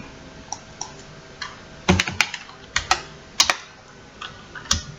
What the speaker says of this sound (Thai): พิมพ์ CMD คลิกขวาเลือก Run as Administrator นะครับ